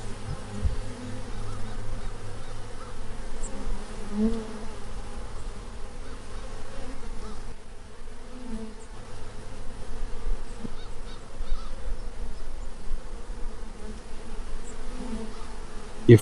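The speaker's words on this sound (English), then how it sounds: "You've probably noticed the sound they make, that gentle, steady buzz, constant hum that is so often present but rarely truly heard." Honey bees buzz in a steady, continuous hum with a low droning tone, a dense swarm sound that stays even throughout with slight swells.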